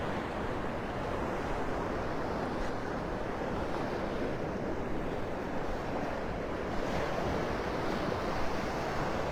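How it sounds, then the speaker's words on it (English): Surf washing onto the beach at Pelican Bay in Naples, Florida, a steady broad wash of waves with light wind over it, fairly soft and continuous, with no voices. "here we are together at the beach"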